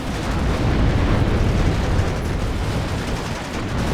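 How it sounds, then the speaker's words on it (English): Mortar fire in the real-time strategy game WARNO, a dense, continuous rumbling roar of blasts and low booms, loud and sustained with no distinct pauses and no talk over it. "mortars continue to menace this staging area in here"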